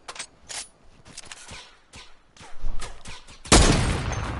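Video game gunfire cracks out in scattered sharp shots, with bursts building in intensity and a loud heavy blast near the end that trails off in a roar.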